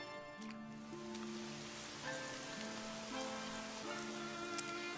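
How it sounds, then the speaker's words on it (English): Rain falls steadily in an anime scene from Naruto Shippuden, a soft, continuous patter with faint sustained tones beneath it and no voices. "The rain falling down on the headband."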